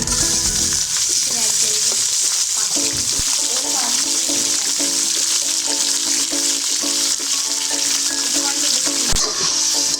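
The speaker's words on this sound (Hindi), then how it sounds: "देखिए चिकन हमारा फ्राई हो रहा है, ये फ्राई हो जाएगा।" Steady, loud sizzling of chicken frying in a hot pan with browned onions, with occasional stirring and scraping sounds throughout.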